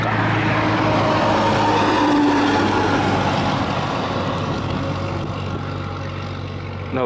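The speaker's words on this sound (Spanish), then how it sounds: "Escuchá cómo tira el Scania." A Scania truck engine pulls hard along a road in the Argentine pampa, its deep steady drone rising slightly as it passes, loud and continuous for about seven seconds without talk.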